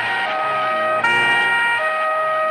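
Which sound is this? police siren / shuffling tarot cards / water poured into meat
police siren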